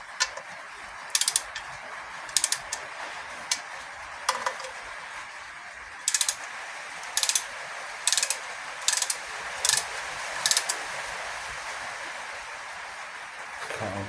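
Short bursts of ratchet clicking come from a wrench tightening bolts evenly to torque on a classic Mini 998 engine, repeated at irregular intervals over a steady background hum, close and crisp, with no talk.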